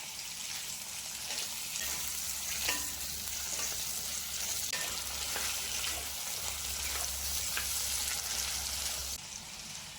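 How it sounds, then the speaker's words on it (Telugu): Vegetables and tomato pieces frying in a pan for paneer butter masala, a continuous close sizzle and crackle with scattered spatula clicks and scrapes and a low steady hum underneath, no voices. "కొన్ని టమాటా ముక్కలను కూడా వేసేసుకొని బాగా ఫ్రై చేసుకోవాలి"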